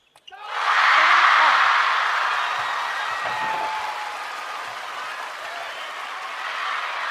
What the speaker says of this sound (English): The bench applaud.